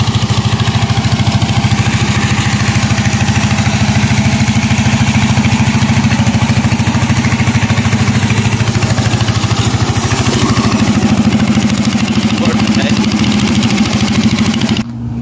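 An 18 hp go-kart engine runs loud and steady at close range, a continuous low throbbing drone with a rough exhaust note that holds unbroken for the whole stretch before dropping off abruptly at the very end.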